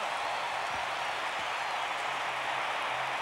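A 1992 Atlanta Braves stadium crowd roars continuously as the team clinches the National League West, a dense, sustained wash of cheering and applause with no break.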